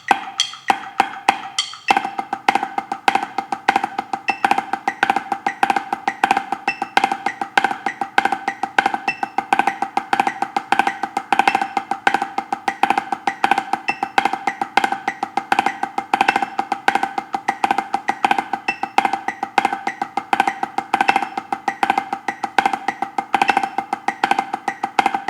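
A drum plays a continuous 16th-note grid with rotating accents and double-stroke diddles, with steady rapid strokes and regular louder hits. It runs unbroken for about twenty-five seconds, close and alone with no voices.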